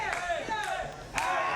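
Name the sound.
wrestling crowd cheering for AJ Steele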